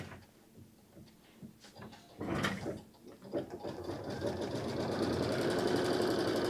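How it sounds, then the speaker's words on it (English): A computerized quilting machine stitches a tack-down line on fabric, starting with a few clicks and mechanical knocks, then building into a fast, steady, rising whir of rapid needle strokes, close and clear. "we'll stitch down our tack down stitch for the batting here"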